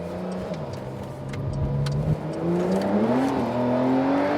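Porsche 911 Carrera engine accelerating in Sport Plus mode on the road, a steady loud drone with pitch climbing as revs build and the car gathers speed, close and continuous with no talk over it.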